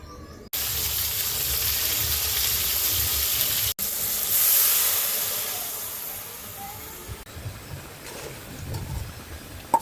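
Moong dal is tipped into a dry kadai for roasting, starting with a sudden hiss that holds steady for several seconds, swells briefly and then fades to a quieter crackle, with no speech.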